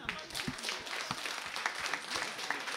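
An audience clapping to answer a question at a talk, a busy patter of many hands at moderate distance, with a voice talking over it.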